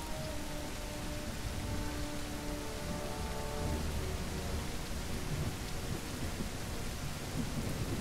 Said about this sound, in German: Also starken Regen hatten wir, glaube ich, noch nie.